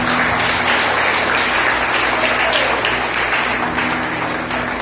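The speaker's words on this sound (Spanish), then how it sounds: "Den un aplauso al Señor" A church congregation applauds loudly and continuously, dense clapping that fills the space for about five seconds.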